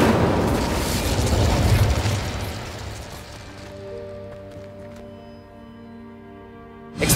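Incendio fire spell cast in Hogwarts Legacy: a loud, broad fiery burst that roars for about three seconds, then fades into a ringing, sustained magical tone that lingers until a sharp pop at the very end.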